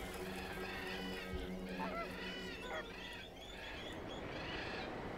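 Migratory waterbirds call in honking, goose-like bursts across the Saryarka steppe wetland of northern Kazakhstan, several overlapping calls at a moderate distance over steady background noise, with narration running beneath.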